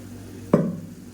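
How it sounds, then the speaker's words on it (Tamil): Rinse water from a mixer jar is poured into chutney in a pan, a sudden short splash that settles into a brief bubbling, simmering hiss. "இப்போ மிக்சியை அலசிட்டு அந்த தண்ணியை சேர்த்துக்கிறேன்."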